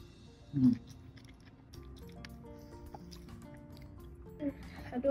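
Someone bites into a classic beef burger with lettuce and mozzarella and chews it, with one crisp bite near the start and soft, close mouth sounds continuing quietly after.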